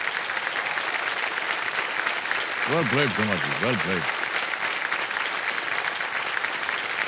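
Studio audience applause on the KBC quiz show, a steady wash of clapping throughout while someone speaks briefly over it.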